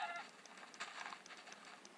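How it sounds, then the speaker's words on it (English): Chicken clucking in Minecraft, with soft, repeated clucks sounding close and fairly quiet over a steady hiss of game ambience. "Hello there, Mr. Chicken."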